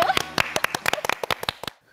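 Audience clapping during a Korean trot music talk show: about a dozen sharp, separate claps in an uneven rhythm, fairly close and loud, then falling quiet.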